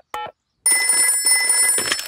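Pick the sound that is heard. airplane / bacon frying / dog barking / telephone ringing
telephone ringing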